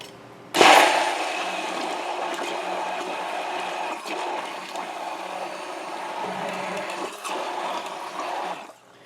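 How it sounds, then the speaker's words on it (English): An electric blender switching on to mix water into thick dye, a loud sudden start that settles into a steady whirring drone for several seconds before cutting off. "And then I'm going to blend that up and test the consistency."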